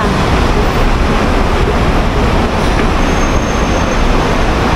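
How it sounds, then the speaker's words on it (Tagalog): Singapore MRT metro train running past, a dense, loud, steady rushing roar filling the whole clip with no pauses, close by, no one speaking. "Doon yung MRT."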